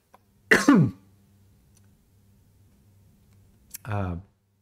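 A sharp throat clearing and cough near the microphone, then a pause with faint background hum, followed by another throaty cough.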